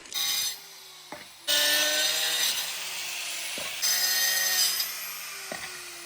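Roof tile being cut during a tile installation on a roof, giving harsh gritty sawing bursts that start and stop several times, loud and close with no talk.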